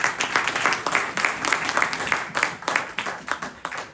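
Applause from an audience at a live community event in Greenburgh, a dense crowd clapping steadily and loudly with a few voices mixed in.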